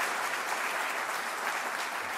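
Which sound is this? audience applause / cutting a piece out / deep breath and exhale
audience applause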